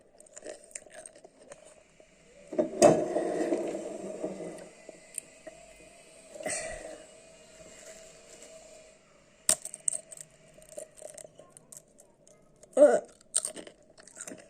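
Quiet crunching bites into something crisp, a few distinct crunches spaced apart with soft chewing noises between them, close to the microphone.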